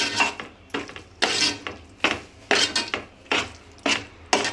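Tomato chutney is mixed by hand in a bowl in a series of rhythmic wet, rasping strokes, about eight distinct pushes, close and fairly loud, with no voices.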